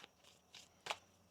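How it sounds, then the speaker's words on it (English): Tarot cards are shuffled by hand in a few quick, soft riffling bursts, close and faint against a quiet room. "One more shuffle."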